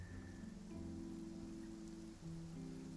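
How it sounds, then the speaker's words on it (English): Steady rain falls in Genshin Impact, a dense continuous hiss with no voices, while looped game music tones sit underneath throughout. "It's raining."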